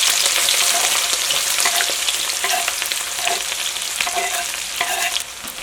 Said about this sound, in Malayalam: ഇനി ഇതിലേക്ക് ഞാനിവിടെ ഫസ്റ്റ് കടുകാണ് പൊട്ടിക്കുന്നത്.